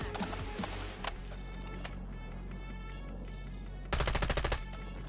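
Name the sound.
gunfire in the video game Warzone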